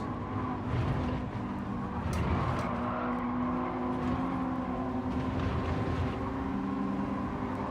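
A naturally aspirated Honda Type R inline-four with dual overhead cams and VTEC, driven in Gran Turismo 7, drones as a steady, continuous engine note at moderate loudness throughout.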